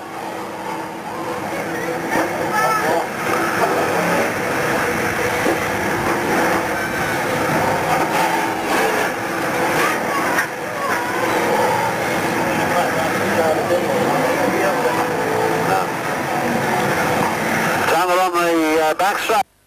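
Stock cars racing at Scunthorpe in 1990 roar along the home straight, a loud continuous engine drone heard beneath constant commentary from an announcer.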